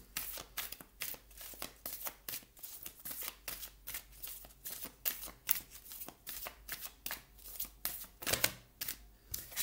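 Tarot cards are shuffled and drawn close by in a long run of quick, crisp riffles and flicks with no talking.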